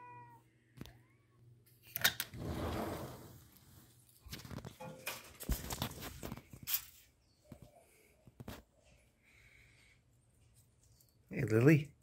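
A three-legged cat in a backyard, with brief meow-like cries and rustling among quiet stretches, a louder burst near the end, and a person talking intermittently nearby.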